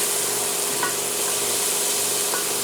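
Food for Italian wedding soup sizzles and simmers softly in a pot, a faint steady frying hiss with a few light clinks, and no voices.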